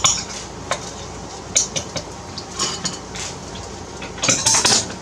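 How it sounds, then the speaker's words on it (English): Plum cobbler batter is stirred by hand in a bowl, with a utensil giving close, intermittent clinks and scrapes against the sides in an uneven rhythm. "Gotta mix up our batter"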